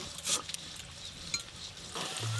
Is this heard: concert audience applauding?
no